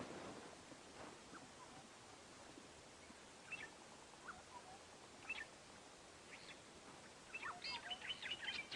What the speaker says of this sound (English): listen to the birds down here along the edge of this little dry river